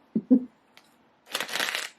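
A deck of cards being shuffled, with two soft taps at the start and then a close, crisp riffling flutter lasting about three-quarters of a second.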